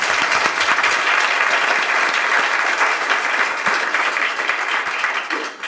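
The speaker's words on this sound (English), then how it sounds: "So round of applause." Audience applause thanking the speakers at a talk on organics and residuals separation in solid waste processing, a dense, steady clatter of many hands filling the room for several seconds before thinning at the end.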